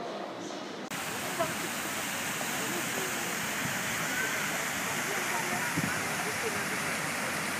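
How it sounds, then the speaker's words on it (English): Water from fountains splashes steadily in Soviet Square in Ulan-Ude on Victory Day, a dense, continuous outdoor rush that holds an even, loud level throughout, after a brief quieter moment at the start. "Fountains for days, people."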